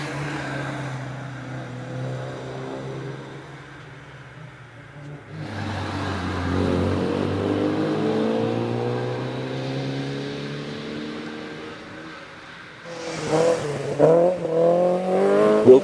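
A classic-liveried Volkswagen Golf Mark 1 GTI rally car climbs a hill, its engine revving up through the gears, swelling louder as it nears, then surging again with sharp bursts near the end.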